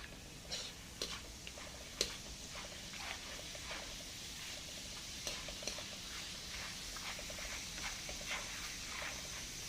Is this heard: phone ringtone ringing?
no